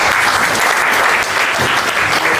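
A theatre audience at a Hindi stage play applauds with dense, loud, continuous clapping that fills the room without a break.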